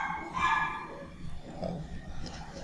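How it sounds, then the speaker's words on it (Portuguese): Several dogs bark at a distance behind a math lesson on roots, with muffled yaps and barks coming in short bursts through a noisy room tone. "esses cachorros estão enchendo a paciência"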